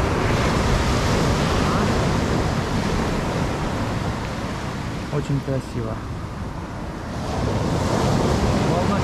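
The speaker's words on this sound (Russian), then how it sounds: "А мы полюбуемся утренним морем." Morning sea waves breaking on the beach at Lazarevskoye, Sochi, a steady loud surf wash with wind noise across the microphone, easing slightly midway before swelling again; a person speaks briefly.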